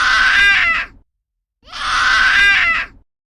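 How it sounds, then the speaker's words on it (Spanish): The Crooked Man from the Nemesis (Resident Evil) vs Crooked Man fight lets out two loud, harsh screams of pain, close and strained, with a short silence between them. "El Crooked Man emitió un grito retorcido de dolor mientras su figura retorcida se estrellaba contra la pared."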